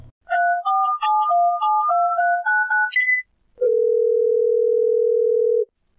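A telephone line connects to a call-in caller on a Bangla religious call-in program: a rapid string of dialing tones in stepped pitches, a brief pause, then a long steady dial tone, loud and clear.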